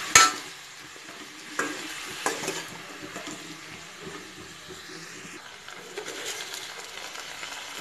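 Pumpkin is stirred and mixed in a pan, a clattering scrape at the start followed by quieter sporadic stirring strokes over a low, soft sizzle, with no talk.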